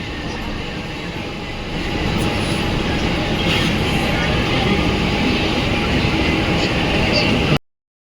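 Steady rumble of a train in motion, heard from inside a Mumbai local with a broad, continuous roar that grows slightly louder partway through and cuts off abruptly at the end; speech is faintly mixed in.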